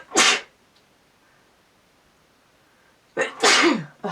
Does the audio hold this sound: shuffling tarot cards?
no